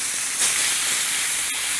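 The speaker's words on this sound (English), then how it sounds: "And that's the sizzle you wanna hear" Steady, loud sizzling of beef tallow in a hot cast iron pan, a continuous broadband hiss with a brief sharp crackle partway through.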